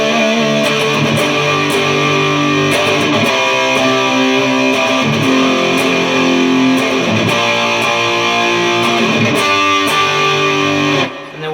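A heavily distorted electric guitar plays a chord progression in a loud, continuous, sustained stretch of ringing chords with no talking, then cuts off abruptly at the end.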